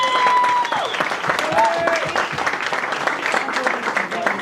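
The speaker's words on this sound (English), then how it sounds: "Join me in a round of applause for Billy Canupis" A party crowd breaks into lively applause, sharp close claps mixed with cheers and a whoop, sustained for a few seconds over a noisy room.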